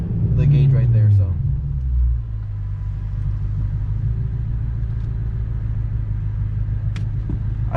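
A BMW F10 M5 engine warming up after a BMC intake air filter install and charcoal filter delete, giving a steady low rumbling idle that holds close and even throughout, with a brief louder swell at the start.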